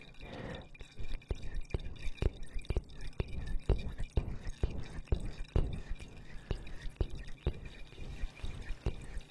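Water drips and trickles close to the microphone in an ASMR setting, a steady stream of soft plinks and small splashes at irregular intervals over a dense, close background.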